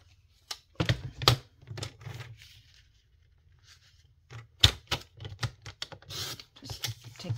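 Pieces of paper ephemera being cut in half with scissors, giving a few close, crisp snips and rustles of handled paper with quiet gaps between them.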